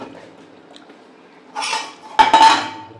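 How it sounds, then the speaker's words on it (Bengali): Curry being stirred in a cooking pot, a quiet start followed by a burst of scraping and clanking as a metal spoon works around the pot, with a few sharp clinks near the end, loud and close. "নেড়ে দাও তলা পড়ে লাগছে"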